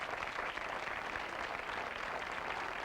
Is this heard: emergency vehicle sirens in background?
no